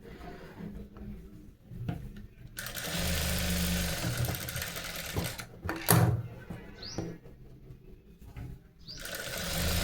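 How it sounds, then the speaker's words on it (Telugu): A sewing machine runs in fast stitching bursts while a blouse is sewn, with short pauses and a brief louder clatter between runs, close and steady under room noise. "చిన్న కుట్టు పెట్టి టకా టకా వేసేసుకుంటే సరిపోతుంది"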